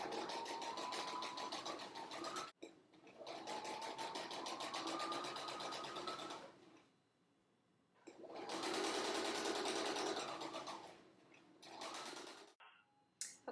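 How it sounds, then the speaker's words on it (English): A sewing machine runs in long continuous bursts while stitching a seam on men's dress pants, backstitching at the start, with brief pauses between runs and no talking. "I'm going to backstitch at the beginning, and I'm going to sew all the way down here"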